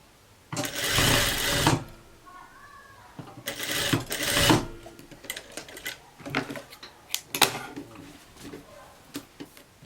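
A sewing machine runs short stitching bursts along a blouse armhole, two loud whirring runs followed by lighter clicks, taps and fabric handling up close.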